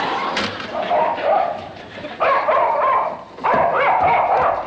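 Dog barking in a television sitcom scene, a few loud yelping barks and whimpers in bursts, with voices and household noise around them.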